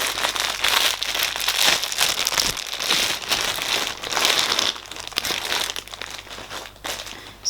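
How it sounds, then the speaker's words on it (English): Plastic bag crinkling steadily and close up as chewing gum balls are pulled out, a dense continuous rustle with no talking. "Let's take the chewing gum out from the plastic bag"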